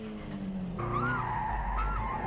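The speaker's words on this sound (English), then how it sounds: "He oversteers at the corner entry, but clears it without a sweat." Tires squeal in rising and falling wails as a Toyota Starlet race car oversteers into a corner, its engine droning loudly underneath throughout.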